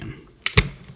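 Plastic parts of a Transformers Titans Return Voyager Broadside toy snapping into place: two quick, sharp clicks close together, close by with no voices.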